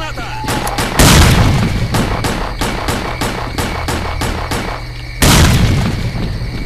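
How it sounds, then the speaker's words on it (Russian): A grenade exploding during a firefight in S.T.A.L.K.E.R. Clear Sky, a loud close booming blast that roars and decays, then a series of rapid gunshots and a second heavy blast near the end. "Ложись, граната!"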